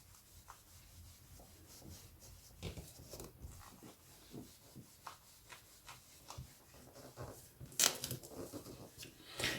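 Polish being rubbed and wiped onto the cover of a vintage paperback book, giving soft, close scuffing strokes in an irregular rhythm, fairly quiet, with a few sharper rubs toward the end.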